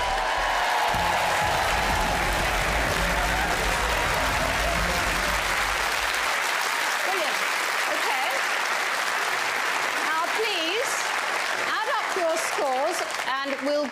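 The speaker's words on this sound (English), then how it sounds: "Give yourself a big round of applause." A studio audience at a televised quiz show breaks into sustained applause, a thick wash of clapping that carries steadily throughout, with a presenter's voice rising over the crowd in the second half.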